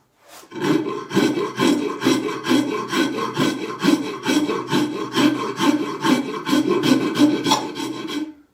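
Rasp or file strokes shaping and rounding a wooden axe handle, a steady run of about sixteen close, loud back-and-forth scrapes in even rhythm with no talking.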